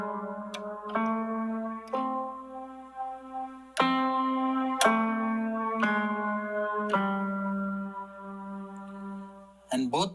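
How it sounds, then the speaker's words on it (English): Keyboard set to Carnatic tuning steps through the second tetrachord pa da ni sa, several distinct sustained tones struck one after another, each ringing out and fading, played solo and clear. "And the second tetrachord pa, de, no, sa will sound like this."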